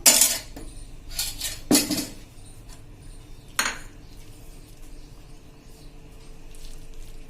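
Boondi laddu mixture with dry fruits being stirred in a metal vessel, giving bright spoon clinks and scrapes, loudest in a few bursts early on, then sparse, softer taps nearby with no talk.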